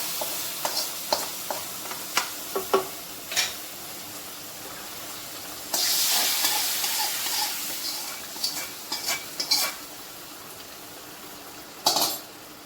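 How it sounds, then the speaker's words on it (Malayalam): A spoon stirs beef curry in a pan, scraping and clinking against the metal in scattered taps over a steady soft sizzle, with a louder burst of frying partway through. "ഇത് നന്നായി ഒന്ന് ഇളക്കി യോജിപ്പിക്കുക"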